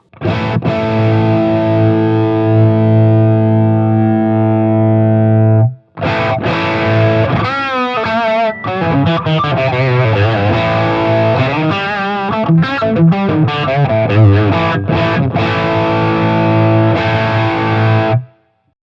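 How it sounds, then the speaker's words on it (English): A distorted electric guitar rings out with a long sustained chord. After a brief cut it plays a busy run of loud, gritty notes and chords, all alone with no voices. "So let's turn on the distortion again."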